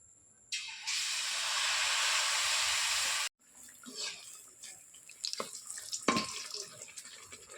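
Palm fritters (taler bora) dropped into hot oil, a loud steady broadband frying hiss that starts abruptly, holds for a few seconds, then cuts off and gives way to quieter sizzling with scattered pops and clatter.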